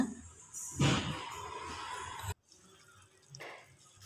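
Water splashes and runs into a cooking pot of agathi leaf curry in a short pour, followed by quieter trickling and a second brief splash, close by.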